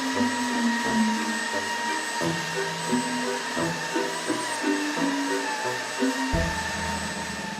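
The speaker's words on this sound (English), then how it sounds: "The most important part about fixing a vacuum cleaner is having to test the vacuum cleaner to see if it runs." A repaired vacuum cleaner runs steadily and loudly, its motor drone continuous and close while it sucks up glitter, with shifting low-pitched tones as the nozzle moves.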